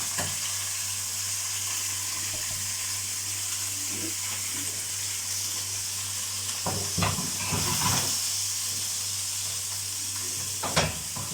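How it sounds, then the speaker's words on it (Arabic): Meat sears in a pan over a flame while tagine dishes are prepared, giving a steady, close frying sizzle and hiss with a few brief clatters of stirring or handling near the end. "بعد اللحمه بتاعتي ما اتشوحت على النار اهي زي ما انتم شايفين بالطريقه الجميله دي"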